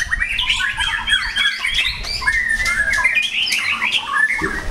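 A white-rumped shama sings loudly at a songbird contest, pouring out rapid, varied whistles and chattering phrases that continue without pause over a busy background of crowd noise.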